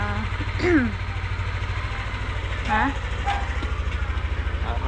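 A motorcycle engine idles close by in a steady low rumble while the bike is worked on. Brief metallic clinks and tool clicks rise above the rumble, and short bursts of speech cut in.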